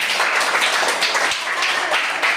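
A group of mothers at a parents' workshop in a village school applaud together in a dense, steady burst of clapping that lasts throughout, close and fairly loud, with no clear speech.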